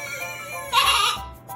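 A person's voice imitates a goat bleat, giving one loud, wavering, nasal cry that swells in the middle of the clip and fades away, with no other talk around it.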